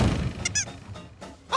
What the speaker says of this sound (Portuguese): Era só um pinguim!